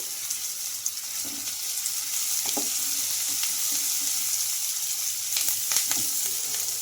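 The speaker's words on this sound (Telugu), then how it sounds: "మనకు ఆనియన్స్ అయితే కొంచెం బ్రౌన్ కలర్ వచ్చే వరకు అయితే ఫ్రై చేసుకోవాలి" Onions and curry leaves fry in a pan with a steady, close sizzle throughout, punctuated by a few soft stirring scrapes and clinks, with no talking.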